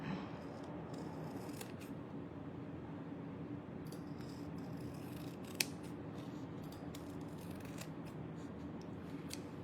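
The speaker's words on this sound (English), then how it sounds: "I'm just going to trim some of these white edges here a little bit" Faint, close snips of scissors trimming white paper edges on a handmade envelope folio, scattered irregular cuts over a quiet room background.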